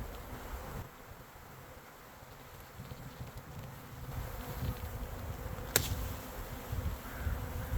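Bees buzz continuously around the listener at an open beehive during a swarm, a soft droning hum with occasional closer passes, no voices.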